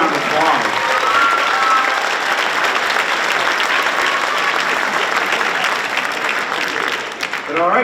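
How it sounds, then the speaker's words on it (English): A middle school winter band concert audience gives a big, dense round of applause that fills the hall for several seconds without letup before tapering at the close. "let's give a huge round of applause"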